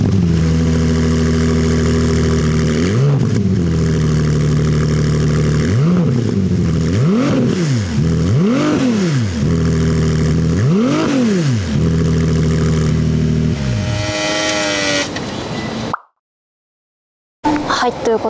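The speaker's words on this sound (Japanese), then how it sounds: "この車両ハイブリッドとは思えないほどすごくいいエンジンサウンドを奏でてくれますので" A Ferrari 296 GTB hybrid sports car revving loud and close at the exhaust, a steady high-pitched engine note broken by several sharp rising-and-falling throttle blips before settling back toward idle.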